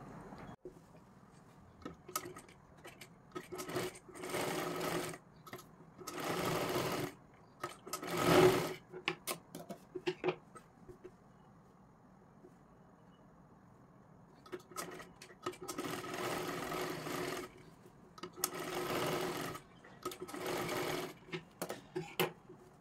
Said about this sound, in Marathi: त्याच्यावरती पुन्हा एकदा आपल्याला डबल शिलाई मारायची आहे